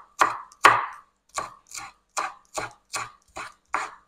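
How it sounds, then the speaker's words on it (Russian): A knife chops onion and cilantro on a board in eight distinct, evenly spaced strikes, close and crisp with silence between cuts, no talking. "Лук полукольцами нарезала и сюда же нарежу немножечко кинзу."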